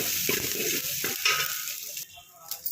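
Mustard seeds, cumin, dried red chillies, green chillies and garlic sizzle in hot oil as a tempering for taravani pulusu, a steady, close crackling hiss that dips briefly near the end before flaring again.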